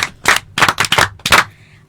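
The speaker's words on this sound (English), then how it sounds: "Clap for yourself." Schoolchildren at New Page Preparatory School in Akim Oda clap for themselves in several loud, sharp bursts of group clapping separated by brief pauses, close and energetic.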